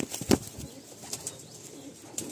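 A restless, long-winged Madrasi pigeon at a Kolkata loft lets out a quick burst of wing flaps followed by soft, low cooing, heard close by.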